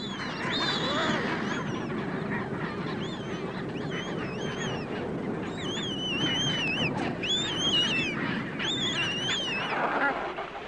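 A colony of chinstrap penguins in Antarctica calls steadily, with repeated honking, braying cries over a dense background of many birds.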